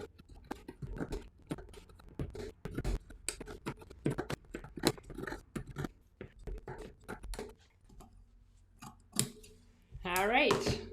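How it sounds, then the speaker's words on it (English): Scissors snipping T-shirt fabric into roughly one-inch fringe strips, a quick irregular series of close crisp cuts, with a person talking over part of it. "Then we're gonna cut maybe 1-inch strips-ish."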